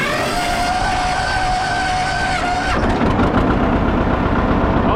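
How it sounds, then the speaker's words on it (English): A tractor's diesel engine cranks with the starter whining, then catches and settles into a loud, steady, close idle. "So that's how you start it. And it's a pretty dang good running tractor."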